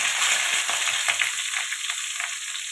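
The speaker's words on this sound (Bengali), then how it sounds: "আলুটাও ভেজে নেব।" Potato pieces fry in a pan of hot oil for a boal fish curry, giving a loud, continuous close-up sizzle with a bright crackling hiss and a few soft stirring scrapes.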